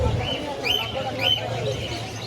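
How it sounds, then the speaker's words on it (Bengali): Cockatiels of various colour mutations at a crowded bird market give a couple of thin, rising whistled calls over a low background murmur of people and other birds. "এখানে বিভিন্ন মিউটেশনের ককাটেল আছে।"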